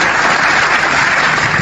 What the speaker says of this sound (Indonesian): Saya harus tepuk tangan dulu.